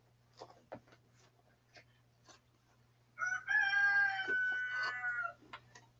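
A rooster crows loudly nearby in one long, drawn-out call, heard amid sparse clicks and taps in a workshop with a steady low hum in the background.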